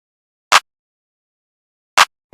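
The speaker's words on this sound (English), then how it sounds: "Alright, so I started with claps," Claps from a drum loop in a beat made in FL Studio: two sharp, dry hits spaced about a second and a half apart, alone with silence between them.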